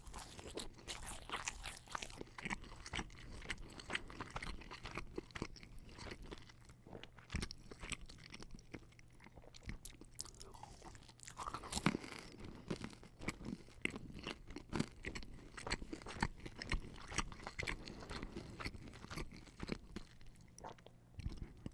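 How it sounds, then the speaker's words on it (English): Papa John's cheese bread sticks crunch and crackle with close, quiet chewing and biting throughout, a dense run of crisp bites and mouth sounds with a brief louder crunch near the middle. "Let's eat some cheese sticks."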